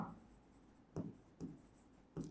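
Chalk or marker strokes on a board during a classroom science lesson on sorting materials, three short scraping bursts spaced about half a second apart, close and fairly quiet with no talk.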